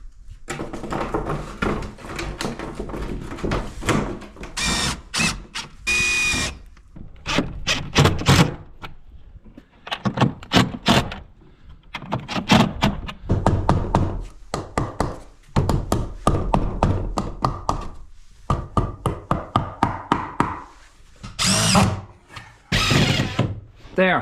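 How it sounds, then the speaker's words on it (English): A power drill drives screws into window sheeting on an old derelict cottage, giving repeated short whirring bursts and knocking taps that alternate with pauses and talk throughout. "There, I'll screw that sheeting now to that."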